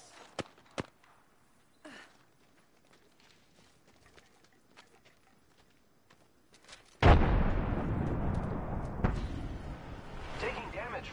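Combat in Apex Legends: a few sharp, isolated shots crack over a quiet stretch, then a loud explosive blast erupts and gives way to a sustained roar of gunfire and debris. Voices speak intermittently.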